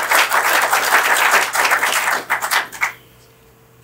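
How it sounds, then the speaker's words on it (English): An audience at a 2019 State of the City address gives a round of applause, several seconds of loud, dense clapping that thins out and stops abruptly, leaving near silence. "So let's give them a round of applause."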